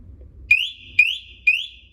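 Three loud, high electronic chirps from a door alarm at even half-second intervals, each a sharp rising tone, over a faint low hum.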